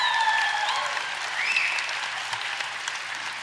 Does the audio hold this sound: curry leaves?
no